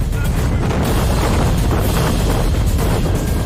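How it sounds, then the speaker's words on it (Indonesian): A tornado with winds over 300 km per hour produces a continuous, dense roar that buffets the microphone at close range, and no voices can be heard. "berhadapan langsung dengan tornado seperti yang Anda saksikan sekarang ini"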